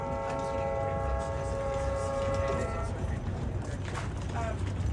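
An NJ Transit diesel train led by an F40 locomotive sounds a long, loud horn blast for the first couple of seconds, then rumbles on with engine and wheel noise, with voices in the background.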